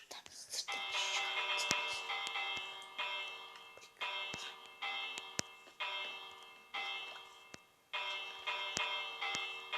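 A doorbell chimes repeatedly in bright ringing tones, about six rings in a regular sequence, each sustained then fading, with faint voices in the background.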